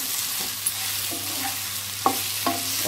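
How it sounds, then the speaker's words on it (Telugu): Potato and tomato curry stirred in a sizzling pan, a steady frying hiss under intermittent scrapes and clacks of the spoon against the pan. "ఒకసారి మిక్స్ చేసేసుకొని"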